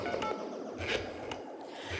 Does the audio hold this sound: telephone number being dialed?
yes